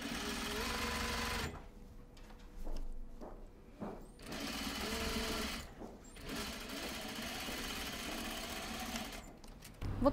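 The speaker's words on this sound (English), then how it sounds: "Next, we need to stitch the front lining to the facing." A sewing machine stitches the front lining to the facing of a semi-coat, running in several fairly quiet, steady bursts of whirring stitching separated by short pauses.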